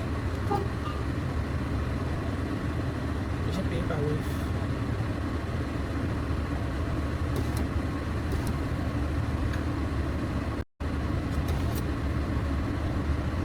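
Steady low road rumble and engine drone from inside a white car on the move in Abidjan, continuous and fairly loud, with a brief dropout and someone talking now and then.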